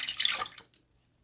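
Heated milk poured from a pot into a container for homemade yogurt, a short splashing pour that trails off after about half a second, close and fairly quiet.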